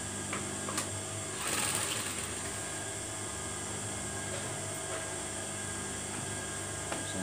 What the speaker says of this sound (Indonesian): kita jahit lagi di sini supaya ini di dalam tidak mudah untuk lari atau mengkerut